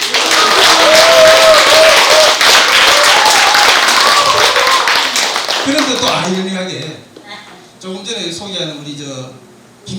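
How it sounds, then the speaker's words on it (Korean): Audience applause at a Buddhist book-publication dharma ceremony, a dense crowd clapping for several seconds before fading, after which someone speaks alone. "박수 한번 쳐요."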